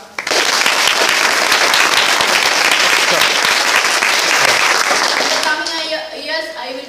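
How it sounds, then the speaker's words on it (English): A school audience gives sustained applause for a student speaker at Green Hills School in Sultan Bathery, with dense clapping that fades out near the end, leaving a few quieter sounds. "Give her a big clap."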